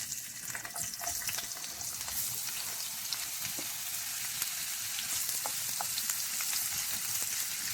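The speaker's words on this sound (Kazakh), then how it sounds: "майға бірінші пиязды қуырып аламыз." Chopped onions frying in hot oil at the start of a quick Kazakh-style supper, a steady close sizzle and crackle with scattered pops running throughout, no voices.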